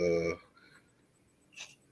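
A mobile phone rings briefly at the start, a short bright electronic tone followed by quieter faint chirps and near silence.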